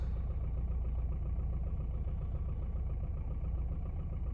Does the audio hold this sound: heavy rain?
no